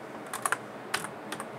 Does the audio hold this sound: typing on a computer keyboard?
yes